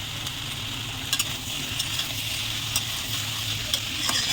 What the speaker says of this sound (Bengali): এখন আবার একটু নাড়িয়ে দেখুন